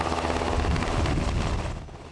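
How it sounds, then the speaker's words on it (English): A Black Hawk helicopter in flight carries a steady, loud rotor and engine roar with broadband wind-like rush, fading slightly toward the end; no voices. "Flying aboard a Black Hawk helicopter amid intense security"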